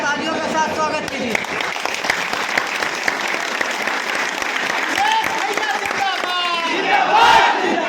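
A crowd at a meeting applauds to welcome Abhishek, a dense burst of clapping mixed with shouts and cheers that swells toward the end, with voices carrying over it.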